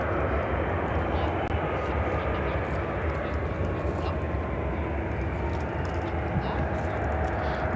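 A Lufthansa jet airliner at Chicago O'Hare gives off a continuous low rumbling engine drone from moderate distance, steady throughout, while people talk quietly over it.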